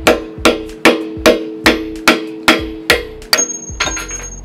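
A hammer drives a steel punch through the retaining pin of an excavator bucket tooth, nine sharp metallic clanks at an even pace about twice a second, loud and close, each ringing briefly.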